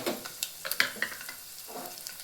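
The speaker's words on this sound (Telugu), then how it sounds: "ఈ తాలింపు గింజలు అయితే వేసేస్తున్నా." Tempering seeds of cumin and mustard with dried chilli dropped into hot oil for sambar, giving a short burst of close sizzling with scattered crackles and pops.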